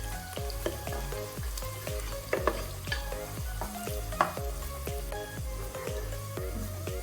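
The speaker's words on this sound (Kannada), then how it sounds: "ಈರುಳ್ಳಿ ಗೋಲ್ಡನ್ ಬ್ರೌನ್ ಆಗೋವರೆಗೂ ಫ್ರೈ ಮಾಡ್ಕೊಳ್ಳಿ" Two onions fry in oil toward golden brown for a mutton biryani, a soft crackling sizzle sitting beneath prominent rhythmic background music.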